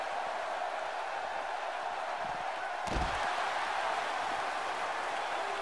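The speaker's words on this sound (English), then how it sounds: "Buddy Woodward slams him across the ring." A pro wrestler is slammed across the ring, landing as one heavy, booming thud about midway through, set against a constant roar of arena crowd noise.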